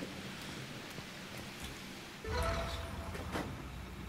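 Steady rain falls in the video game Garden Life, a soft continuous hiss that grows louder and denser partway through, with no voices.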